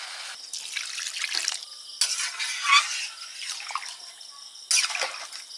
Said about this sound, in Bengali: তেল ছেড়েছে, জল দিয়ে দিচ্ছি।